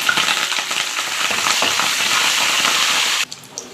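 Garlic, cumin, peanuts, dried red chillies and curry leaves sizzle and crackle in hot oil in a pot, a loud continuous frying hiss that stops abruptly near the end.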